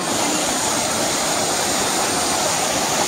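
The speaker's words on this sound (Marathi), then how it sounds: "ही नदी अशी वाहत येऊन इथून ती खाली जाऊन अकराळ विकराळ असं धबधब्याचं रूप धारण करते" Savatkada waterfall at Rajapur, where a river pours over the edge, gives a constant loud roaring wash of water that holds evenly throughout with no voices.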